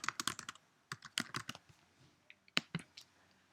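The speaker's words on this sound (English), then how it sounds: "I'm going to type in my search terms" Search terms are typed on a computer keyboard in quick bursts of crisp, close key clicks with short pauses between words.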